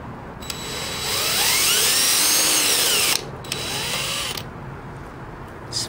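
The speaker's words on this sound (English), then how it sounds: "I'm running my drill in the medium speed setting" A power drill at medium speed boring into soft metal, a loud whining grind that rises and holds, cuts out briefly, then resumes, close by with no talk.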